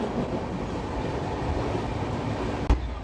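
The Howrah-Puri Express runs on its rails with a steady, dense rumble and faint wheel clatter, heard from on board, with one sharp knock near the end.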